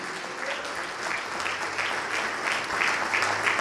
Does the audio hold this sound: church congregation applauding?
yes